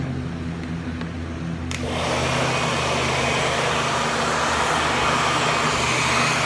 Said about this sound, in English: I'm going to be blow drying it